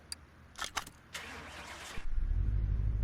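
Car engine in the Car Mechanic Simulator video game, a Smith 1500 under restoration: a few short clicks, then a starter cranking for about a second before the engine catches and settles into a loud, steady idle.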